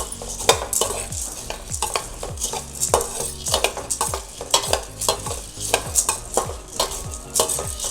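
Chana dal fries in a pan and is stirred with a metal spoon, making repeated sharp scraping strokes in a steady rhythm over a constant crackling sizzle, close and clear with no talk.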